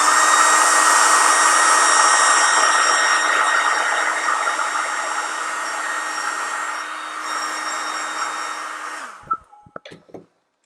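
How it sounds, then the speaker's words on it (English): A hair dryer blasts steadily to dry paint on wooden earrings, a loud continuous whine and rush of air that runs for about nine seconds before switching off, followed by a few small handling clicks. "I'm gonna blast it really quick with my hair dryer"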